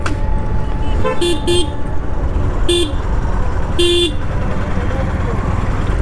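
Several short car horn toots sound over a steady rumble of street traffic near the Somnath temple market area, spaced irregularly, some paired in quick succession, moderately close.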